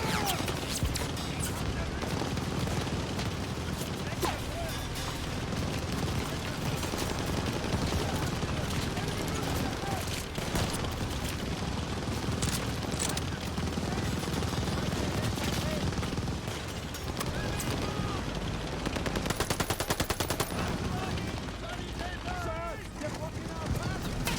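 Dense, sustained machine gun fire and battle noise from the World War II shooter Call of Duty: Vanguard, loud and continuous throughout, with shouted game dialogue over the din.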